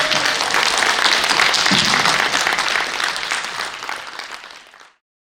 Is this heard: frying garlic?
no